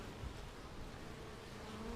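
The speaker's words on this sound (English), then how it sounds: "we got a swarm moved in" Honey bee swarm moving into a bait box, a dense steady buzzing hum heard close and continuous, with no other sounds.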